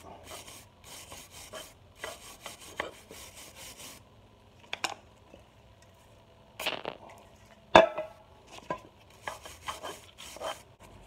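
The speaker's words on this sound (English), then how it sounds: "careful you don't wire brush your caliper bolt boot" A wire brush scrubs a rear brake caliper on a 2015 Nissan Sentra in bursts of rasping strokes, quiet and close, separated by brief pauses and a few sharp knocks.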